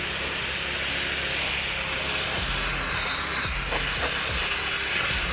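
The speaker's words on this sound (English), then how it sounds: "so that when I spray on the surface" A pressure washer sprays the outside surface of a house during a wash, a loud, steady hiss of water that swells slightly as the spray shifts, with faint low thumps beneath and no speech.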